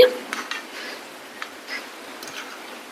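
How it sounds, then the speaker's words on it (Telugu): Mutton pieces for a drumstick curry are mixed by hand with salt, chili powder and turmeric, making soft, faint squelching and occasional light clinks against a quiet background. "మొత్తం ఉప్పు కారం పసుపు ముక్కలకి పట్టేలాగా కలుపుకోవాలి"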